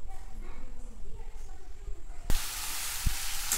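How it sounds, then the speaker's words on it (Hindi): Small fish curry sizzling as it is roasted in masala in a pan, first low and muffled, then a loud, bright, steady hiss bursts in and carries on to the end, with a sharp clack near the close. "डिनर के लिए मछली फ्राई हो गया, अभी मसाला में भून रहे हैं"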